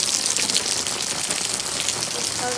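A rain shower falls outdoors around a canopy, a loud, continuous hiss of drops pattering on surfaces with no break.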